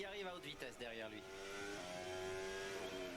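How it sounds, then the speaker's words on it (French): Formula 1 cars pass at high speed during practice at Monza, their high engine whine rising and shifting in pitch. The steady, loud engine sound runs under continuous commentary. "les voitures qui arrivent à haute vitesse derrière lui"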